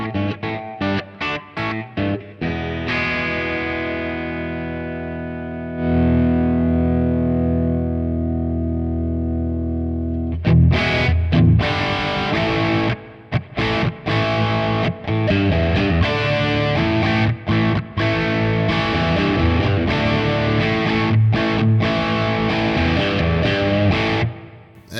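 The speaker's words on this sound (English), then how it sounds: "Definitely sounds like a JCM 800." Heavily overdriven electric guitar through a Marshall JCM 800 amp model on a Sonicake Matribox: quick chugging chords, a long sustained ringing chord, then dense, loud distorted riffing with short rhythmic breaks.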